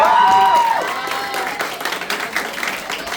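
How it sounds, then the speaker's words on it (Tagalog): Audience applause at an afternoon gathering, a burst of crowd clapping that starts strong and then thins into scattered, weaker claps, with a brief tonal sound at the start and some voices mixed in. "Ang hina naman ng palakpak natin."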